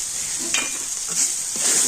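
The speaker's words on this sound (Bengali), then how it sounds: "সমস্ত মশলা দিয়ে একটু ভালো করে নাড়াচাড়া করে নেব" Ground spices such as cumin, coriander and garam masala are stirred through vegetables in a frying pan, with a few soft spatula scrapes over a low sizzle and no talk.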